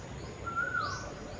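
A single bird call rises clearly above a soft, steady outdoor background, one brief whistled note heard at moderate distance with no talking.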